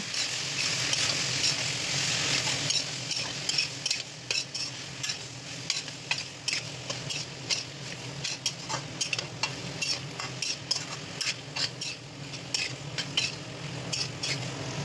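Green beans and potatoes are stirred in a sizzling pan with turmeric, cumin, coriander, salt and red chili powder. A spoon scrapes the pan in repeated rhythmic strokes over a constant frying hiss.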